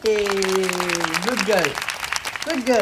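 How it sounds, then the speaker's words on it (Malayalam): Children clap for a girl who has just sung at home, a brief patter of hands heard under an adult voice praising her. "എല്ലാവരും ക്ലാപ്പ് കൊടുക്കൂ."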